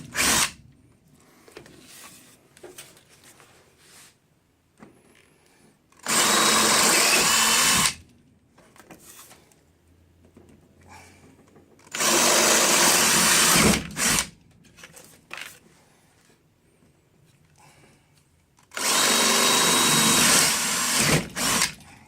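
A power tool cuts through clear-coated material in three loud, sustained bursts of a couple of seconds each, separated by quieter gaps with faint handling noise.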